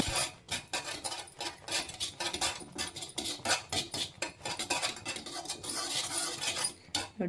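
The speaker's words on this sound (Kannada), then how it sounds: "ನೋಡಿ ಈ ರೀತಿ ನೀಟಾಗಿ ಸೈಡಲ್ಲೆಲ್ಲ ನೀಟಾಗಿ ತಿರುಗಿಸ್ಕೊಳ್ಳಿ ಲೋ ಫ್ಲೇಮ್ ಇಟ್ಕೊಳ್ಳಿ" Metal spoon scraping and clinking around a pan while a carrot sweet mixture is stirred on a low flame, a busy, close series of scrapes and taps, with no talk.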